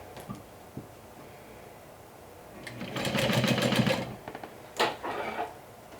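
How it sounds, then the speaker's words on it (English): A sewing machine stitches fabric right sides together with a half-inch seam allowance, running in a loud whirring burst of about a second, then a shorter run, against quiet room background. "you're going to stitch it right sides together with a 1/2 inch seam allowance."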